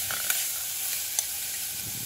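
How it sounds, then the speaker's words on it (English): Onions and garlic sauté lightly in olive oil in a pan, giving a steady close sizzle with a couple of faint clicks from stirring. "So in go our onions and garlic. As I said, it's just a light saute"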